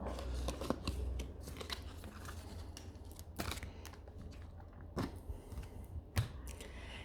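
Playing cards are pulled from a pile and gathered back up, giving a run of close, dry crisp card slides and soft snaps with a few sharper flicks, alone without any talk.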